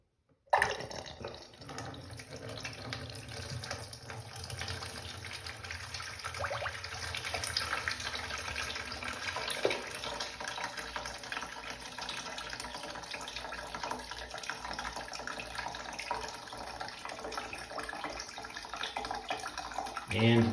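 Toilet flushing with rocks in the bowl, a continuous rushing and gurgling of water running steadily for about twenty seconds, close by, with a person's voice heard at times.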